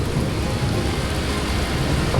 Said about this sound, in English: Nothing like thunder and lightning.